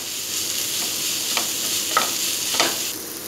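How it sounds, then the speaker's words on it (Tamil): Onions sizzle and hiss steadily in hot oil with turmeric, with a few soft scraping stirs breaking through the constant frying crackle, while making masala dosa filling. "வெங்காயம் லைட்டாக வதங்கினோடனே நம்ம மஞ்சத்தூள் சேர்த்துக்கிறோம் இந்த எண்ணெயிலே நல்லா வதக்கிக்கோங்க"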